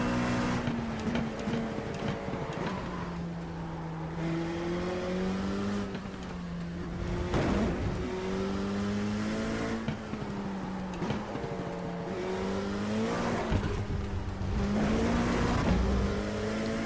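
A race car driven flat out in the sim racing game iRacing at The Bend Motorsport Park, a loud continuous engine drone rising and falling through gear changes and revs, with occasional tire noise and no talking.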